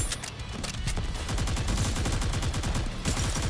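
Aegis Cannon firing in the Yu-Gi-Oh! Duel Links video game, a rapid loud barrage of repeated gun-like shots in a fast rhythm lasting a few seconds.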